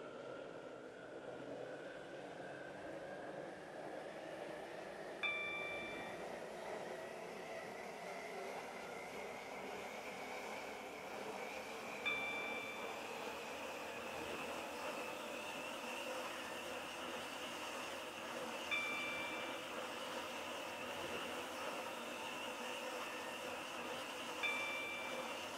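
Train running on the Stepford County Railway in the Roblox game, a Stepford Connect service: a steady, quiet rolling hum with a rising whine, plus soft periodic clicks of wheels over rail joints every few seconds.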